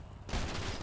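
Gunfire in the video game GTA 5 erupts as a sudden loud burst after a quiet moment, a dense rattle of rapid shots close by that fills the short sound.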